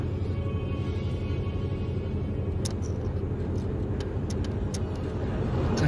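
A heavily loaded car drives along, with a steady low engine and road rumble throughout and a few faint clicks partway through.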